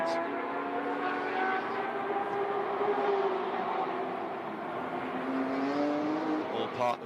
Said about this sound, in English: very loud Porsche road cars out on the track at the moment doing some lapping sessions.